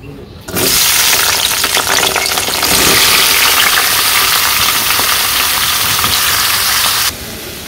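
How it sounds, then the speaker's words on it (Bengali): Pointed gourd fries in oil in a wok in a village kitchen, a loud, steady broadband sizzle that starts abruptly after a short pause and continues evenly, close up, with no voices. "এখন কড়াইয়ে তেল দিয়ে দিই তারপরে ভেজে নিব"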